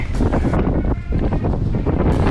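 Strong wind buffets the microphone during a bike ride through a rural barangay in Pangasinan, a loud continuous rumble with no clear voices.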